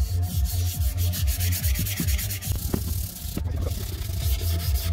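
A Peugeot 103 Leovinci exhaust pipe is sanded by hand, giving close, continuous rasping strokes in a steady back-and-forth rhythm with no talking.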